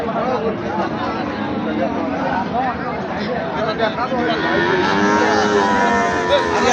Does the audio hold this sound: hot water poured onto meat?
no